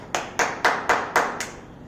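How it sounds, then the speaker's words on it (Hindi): Six sharp hand claps from a single person welcoming a church congregation at an online Hindi service, evenly spaced and close, with no talk between them. "मैं ताली बजा के आप सबका स्वागत करना चाहता हूँ।"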